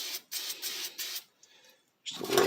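K&N air filter oil is sprayed onto a dirty K&N air filter from a Y2K Camaro, heard as several short, close hissing bursts with brief gaps, then a louder, fuller rush at the end.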